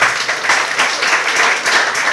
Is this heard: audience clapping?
yes